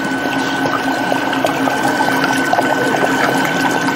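Amaretto poured into a coffee ice cream mix inside a running machine, a steady liquid trickle over a constant mechanical hum with a faint tonal whine.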